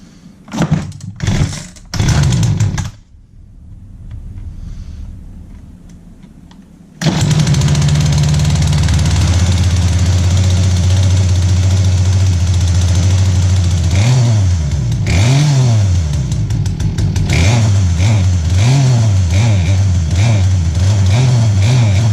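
A Poulan P3816 chainsaw with a freshly rebuilt carburetor gives a few sharp starter pulls and sputters, then catches and runs loudly up close, idling with repeated rising and falling revs.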